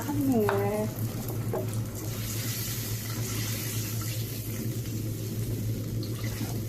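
Wheat upma ingredients are stirred together with freshly added water in a pan, soft sloshing and scraping over a steady low hum, with a brief voice near the start.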